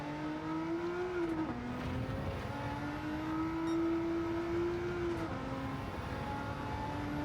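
A Nissan Fairlady 300ZX with a GTR engine swap races in Gran Turismo 7, its engine droning steadily and climbing in pitch through second gear, with brief drops at the shifts and faint tire noise.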